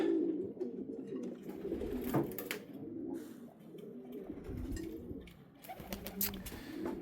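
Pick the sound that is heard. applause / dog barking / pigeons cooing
pigeons cooing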